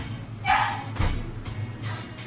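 A dog gives a couple of short, yappy barks nearby at a vaccination visit, with a quiet room tone in between.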